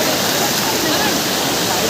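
A hidden waterfall near Thirthahalli, low on water, roars as a dense, constant broadband rush close by, filling the whole moment.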